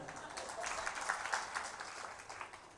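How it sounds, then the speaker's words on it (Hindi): Audience members at a Jain religious discourse clap together in soft, continuous applause, fairly quiet and distant, with a voice faintly present. "अब आप लोग बजाओ उसके लिए ताली"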